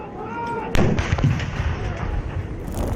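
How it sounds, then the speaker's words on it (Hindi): A single heavy boom from a ceremonial 21-gun artillery salute sounds at a state welcome, a loud thud followed by a rolling decay and background crowd noise. "21 तोपों की सलामी दी गई।"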